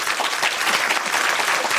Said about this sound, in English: And a round of applause for Kate's pick, Scream 2.